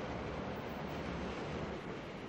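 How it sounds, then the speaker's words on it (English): A train pulling away, heard as a steady, dense rumble of rolling wheels and carriages lasting a couple of seconds with no talking. "The train is leaving."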